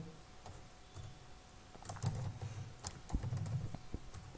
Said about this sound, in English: I can type the names here